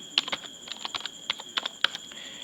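Fingers type on a computer keyboard while JavaScript code is being written, with about a dozen crisp, uneven key clicks heard up close and no speech over them.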